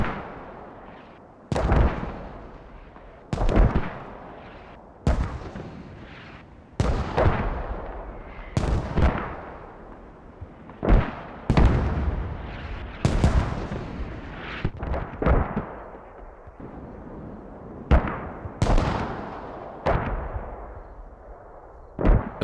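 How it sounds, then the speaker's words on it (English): Mortar rounds landing in the video game Squad, a string of a dozen or so heavy booming impacts at irregular intervals, each with a long rumbling decay, some closer and louder than others, with no talk. "mortars are coming in from... gotta be rally ups mortars"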